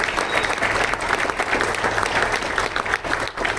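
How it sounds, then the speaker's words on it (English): A room full of people at a benefit event clapping steadily, a warm, continuous round of applause at close range. "Let's give Sean another round of applause."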